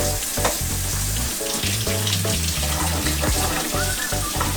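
Water from a kitchen sink faucet runs hot in a steady, continuous stream with a busy splashing hiss that stays constant throughout, close and fairly loud.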